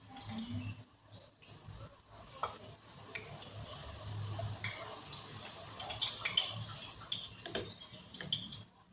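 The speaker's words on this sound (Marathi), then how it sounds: "तर पहिल्यांदा आपण वड्या तळून घेऊया" Vadi fritters deep frying in oil in a home kitchen pan, giving a soft continuous sizzle with bubbling and occasional stirring scrapes, close but fairly quiet over nine seconds.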